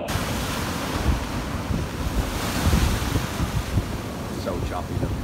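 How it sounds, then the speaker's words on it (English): Choppy sea waves and white water breaking along the Sligo and Enniscrone coast, a continuous roaring surf with heavy wind buffeting the microphone. "loads of white water, loads of waves going on over there"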